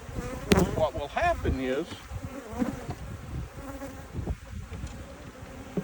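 Honeybees swarm around an open hive with a dense, constant buzzing, close and full, while someone speaks briefly over it.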